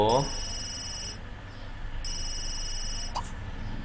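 A telephone rings in The Sims 3, giving two electronic ring bursts about a second apart. A person talks quietly underneath.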